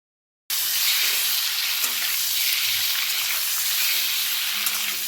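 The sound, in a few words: boiled eggs frying lightly in oil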